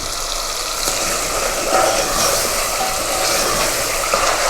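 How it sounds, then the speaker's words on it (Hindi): Beef masala for a beef and cauliflower-cabbage curry frying in oil, giving a steady, dense sizzle that holds loud and close throughout. "देखिए जी, अच्छी तरह भुन रहा है। इसका ऑयल भी ऊपर आ गया है"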